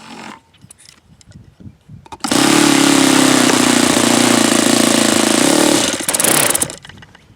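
A Saito FA-72a four-stroke model airplane engine on its first run fires up and holds a loud, steady buzzing drone at high revs for several seconds, then cuts out and sputters briefly before falling quiet.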